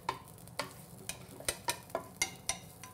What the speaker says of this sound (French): On va faire revenir en gros nos ail et échalotes que tu viens de ciseler